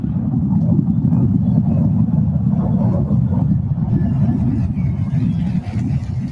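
A SpaceX Starship rocket on its tenth flight test lifts off with a loud, deep, continuous roar that rumbles without a break and never fades.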